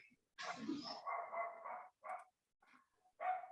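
A dog barks in several close, sharp bursts separated by short gaps, alone in an indoor room.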